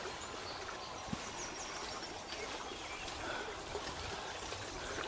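Water flows steadily in Black Earth Creek along a wooded trail, a soft continuous rushing and trickling close by, with faint birdsong in the background and no talking.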